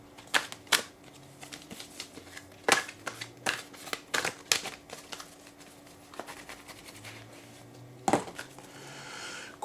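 A run of quick, papery oracle card flicks and riffles during shuffling, close up, coming in irregular bursts with brief pauses between them.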